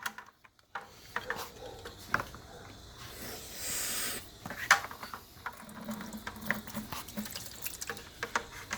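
Water siphoned from an aquarium sump through a hose, faint irregular trickling, gurgling and dripping with scattered splashes, fairly quiet throughout.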